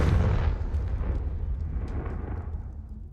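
A Confringo fire spell in Hogwarts Legacy bursts with a loud, rumbling blast at the start that rolls into a long crackling decay, fading steadily over a few seconds with no talk.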